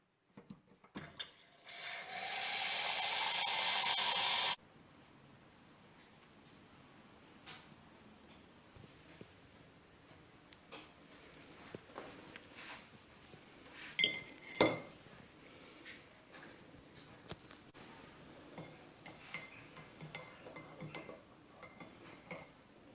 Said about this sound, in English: So I'm going to insert a clip here of me making tea.